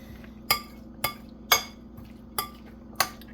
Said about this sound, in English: Now we're just going to do a quick mix.